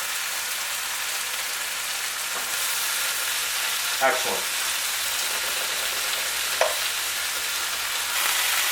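Chicken pieces fry in a hot pan with a steady, bright, hissing sizzle that runs throughout, broken by a couple of faint clinks and a brief spoken word.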